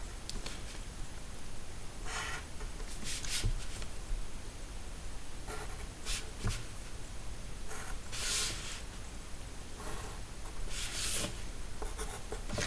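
Pencil drawing on paper for a technical orthographic projection, a faint continuous scratchy rubbing with intermittent sharper strokes as lines are drawn, quiet and near.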